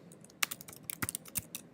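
Close, quiet clatter of a computer keyboard as commands are typed, a quick irregular run of sharp key taps alone.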